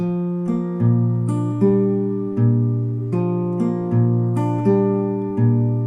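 An acoustic guitar plucks a steady measure of a song at an even pace, ringing notes ending on two bass notes beneath the melody, clear and close.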